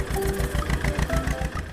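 A mini tractor's small petrol engine chugs with a steady, rapid low pulsing, running continuously at moderate loudness for a couple of seconds.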